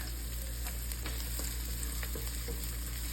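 Garlic and ginger sautéing in oil in a cooking pot for laing, giving a steady, close sizzle with faint clinks of stirring throughout and no talking.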